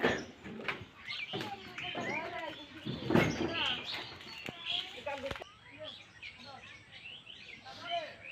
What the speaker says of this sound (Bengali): পাখিদের কোলাহলে ডাক